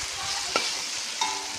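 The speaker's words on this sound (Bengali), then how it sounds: "এই যে আলু ভাজা হয়ে যাচ্ছে।" Potatoes frying in a pan, a steady close hiss of sizzling oil with two brief clinks of a utensil stirring them.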